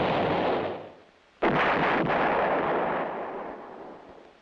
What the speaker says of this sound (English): One battery of towed 8-inch howitzers is included in the Infantry Division Artillery.